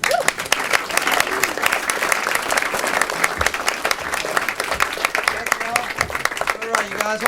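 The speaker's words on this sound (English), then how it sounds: "One more round of applause for Austin." Comedy club audience applauding between comedians, dense sustained clapping with cheers and a voice talking over it, close and loud throughout.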